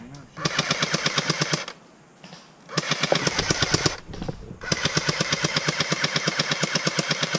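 Airsoft guns firing BBs during a small outdoor skirmish: long rapid full-auto bursts, loud and close, with a short pause between them and a brief quieter stretch.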